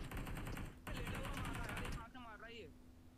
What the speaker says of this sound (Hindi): मैं देखो वापस फायर कर रहा हूँ।